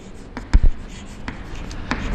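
Pen or chalk writing out a matrix multiplication problem during a maths lesson: a series of short, sharp taps and scratchy strokes at an uneven rhythm, close and fairly loud, with no talk.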